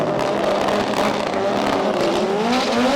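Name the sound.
drag racing cars launching after burnouts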